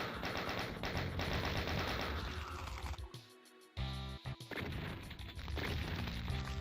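Dense, continuous video game gunfire, loud and layered with music and effects, briefly dropping out before the rapid shots resume.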